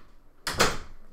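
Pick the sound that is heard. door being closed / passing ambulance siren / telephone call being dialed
door being closed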